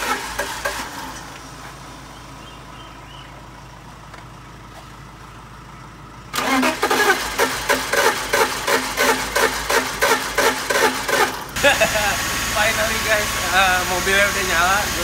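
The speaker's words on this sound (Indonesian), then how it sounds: "Mobilnya udah nyala" After a quiet stretch with a brief voice, a BMW car engine cranks and catches, then chugs through a rough, pulsing run before settling into a steady, loud idle close by.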